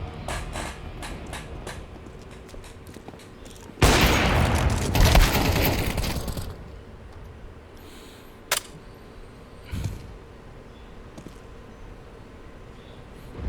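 Gunfire in Counter-Strike 2: a loud, dense burst of rapid shots lasting a few seconds, framed by scattered fainter clicks and a few isolated sharp cracks afterward, with no talking.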